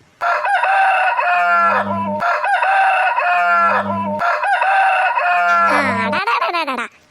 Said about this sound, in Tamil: இந்த கோழி என்னமோ இப்ப தலை போற மாதிரி கத்திட்டே இருக்குது